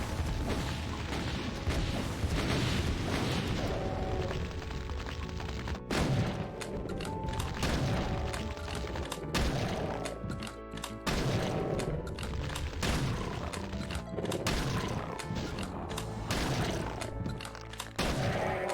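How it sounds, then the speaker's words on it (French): Rocket launcher blasts and gunfire in the video game Doom II, a dense, loud stream of booms and shots with repeated heavy bursts and no talk. "Pourquoi je me tire dessus avec le lance-roquette?"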